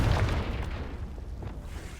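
A Confringo fire spell explosion in Hogwarts Legacy, a single heavy boom at the start that rolls off into a fading rumble, heard alone without talk.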